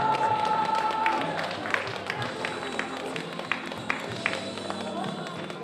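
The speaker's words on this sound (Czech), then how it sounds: "Komplet zatleskat všem třem děvčatům." An audience at a ball in Benešov claps for three girls, a dense, steady patter of applause with scattered louder claps that fades slightly toward the end, and a voice faintly audible beneath.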